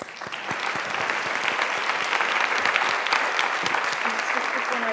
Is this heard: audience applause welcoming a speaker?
yes